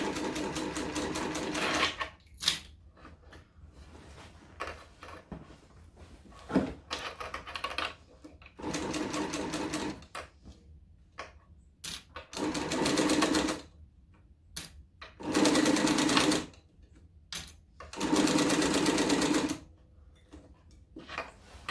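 A home sewing machine stitches a seam on a Giant Tribbiani Traveller bag from a Sincerely Jen pattern. It runs in several close, rapid bursts of stitching separated by short quiet pauses for readjusting the fabric.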